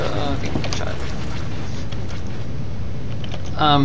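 A seismic mine detonating in a starfighter space-combat game, a loud, sustained rumbling blast that fills the whole clip and swells again near the end.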